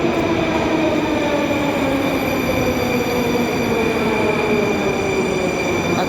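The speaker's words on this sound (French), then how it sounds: "filmer un peu le métro, parce que quand le tram arrive, ça fait un bruit absolument épouvantable" Moscow metro train arriving at a station, a loud steady roar of wheels and motors with rising and falling whine tones that persist throughout, no voices.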